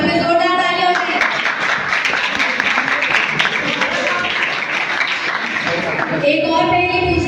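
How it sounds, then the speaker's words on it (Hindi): Loud, dense applause from a school farewell party audience fills the middle of the stretch, with a speaker's voice at the start and again as the clapping fades at the end. "इसी बात में जोरदार तालियां हो जाए"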